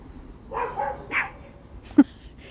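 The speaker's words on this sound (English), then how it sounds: "Are you yelling at the neighbor dog?" A neighbor's dog barks outdoors in a yard, a few short barks and yips at moderate distance, with one sharper, louder bark near the end against a quiet background.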